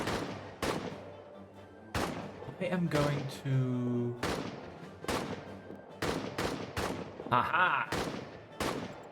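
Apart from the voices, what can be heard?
enemy gunfire in a trench warfare video game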